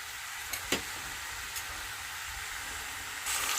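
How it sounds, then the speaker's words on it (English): Onion fries in vegetable oil in a pot, giving a steady, close sizzle with a few light clicks of stirring and a brief louder hiss near the end. "I'm going to fry the onion first"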